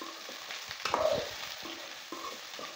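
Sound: stirring okra fry in a pan from the bottom

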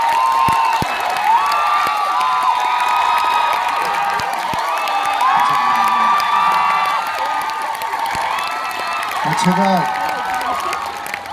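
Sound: studio audience applause and cheering

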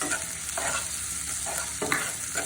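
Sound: panch phoron spice mix frying for achari dal

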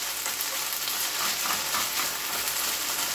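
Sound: shirataki pasta sizzling in pan with garlic

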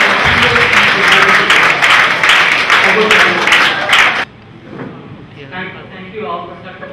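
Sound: audience applause for speaker

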